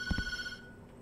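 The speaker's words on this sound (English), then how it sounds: "Why is that phone just randomly ringing, by the way?" A telephone rings in the horror video game Tattletail, a trilling electronic ring with a couple of low thumps at the start, cutting off partway and leaving faint background hum.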